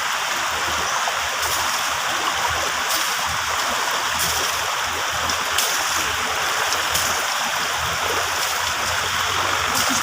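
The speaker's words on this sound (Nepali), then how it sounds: "एकदम ठन्डा छ यो खोला" A cold mountain stream rushes steadily and close by, its broad continuous wash of flowing water unbroken and without voices throughout.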